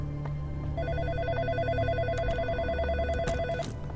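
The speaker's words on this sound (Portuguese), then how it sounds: "Telefone." An old-style telephone bell rings in the horror video game In Sound Mind, a rapid trilling ring repeating steadily and clearly over a low ambient game hum.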